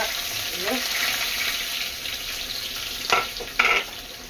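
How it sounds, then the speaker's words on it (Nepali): Onion, garlic and other ingredients frying in hot cooking oil: a continuous sizzling hiss with brief watery bursts and a couple of louder splattering flares near the end, close by. "प्याज पनि बेसी खराउनु हुँदैन, लसुन पनि बेसी खराउनु हुँदैन"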